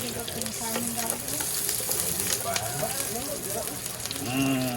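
Garlic crackles in a pan of hot oil, cooking toward golden brown for a pakbet vegetable dish: a close, busy sizzle with a few brief murmured voices mixed in.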